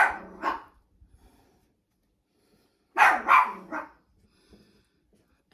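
Dogs barking in a home kitchen: a couple of quick barks at the start, then after a pause a louder burst of three or four close barks, with near silence between.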